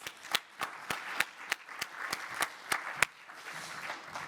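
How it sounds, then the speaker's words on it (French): Clapping at a French conference on housing, health and comfort, heard as a slow, regular run of distinct, fairly close handclaps, about ten evenly spaced beats, before it trails off into a quieter room. "On peut encore vous applaudir, je pense."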